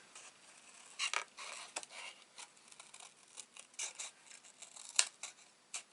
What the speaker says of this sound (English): Now we're going to do a little bit of fussy cutting.